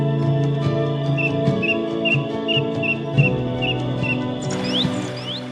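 Bird calls in an African wetland, attributed to a shoebill: a steady string of about eight short, evenly spaced whistled chirps over a background drone, followed by a few louder rising whistles near the end.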